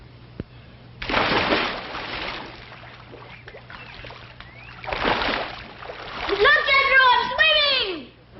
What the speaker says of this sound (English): Big Jethro says dive in and swim.